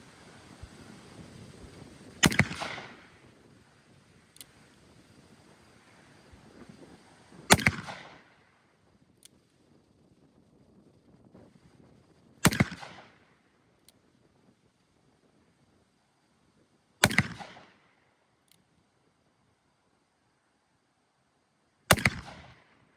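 A Colt 1860 Army percussion revolver fires five sharp, loud shots spaced roughly five seconds apart, each crack trailing a short ringing decay into near silence.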